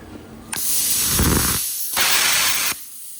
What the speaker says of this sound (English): So we'll plasma cut that bit off.